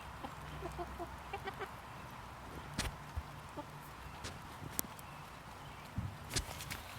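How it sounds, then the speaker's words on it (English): Soft clucking from a rooster or hens at a backyard chicken coop near the start, over a low murmur with scattered clicks and footsteps throughout. "That's a rooster right there."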